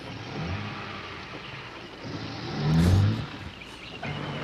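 A car engine swells briefly as the vehicle pulls away, a low rumble rising to a peak near the middle and fading, set against steady background hiss with no talk.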